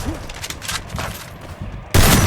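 Bursts of gunfire crackle through a mobile battle-royale shooter fight, with scattered shots followed by a loud sudden burst near the end.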